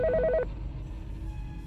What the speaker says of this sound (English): had just settled in at my desk when the phone rang